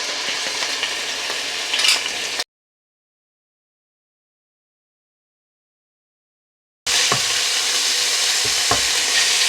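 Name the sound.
ginger and garlic frying with bay leaves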